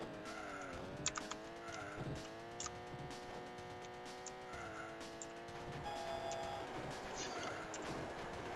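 A train passes during a race in the PC racing game SuperCars International, its rumble merging with a steady, layered car-engine drone that holds throughout, with a brief high tone near the end.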